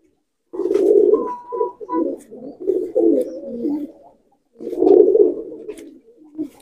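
Male Nildumma pigeons coo close by in repeated soft, throaty bursts, with a short pause before a final round of cooing.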